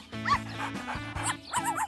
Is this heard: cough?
no